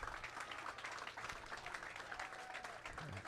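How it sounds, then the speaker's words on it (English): A bowling crowd applauds a champion at the PBA50 Johnny Petraglia BVL Open finals, steady dense clapping from a sizeable audience filling the whole clip at moderate loudness. "How about a nice round of applause for your champion, Brian LeClair?"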